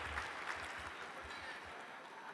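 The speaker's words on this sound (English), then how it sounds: "Yes, he deserves a round of applause," Live audience at an interview with Sourav Ganguly breaks into steady applause, a dense even wash of clapping that holds at moderate, slightly distant level with a faint voice mixed in underneath.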